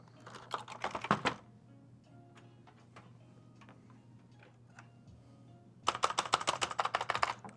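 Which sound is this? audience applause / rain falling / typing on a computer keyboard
typing on a computer keyboard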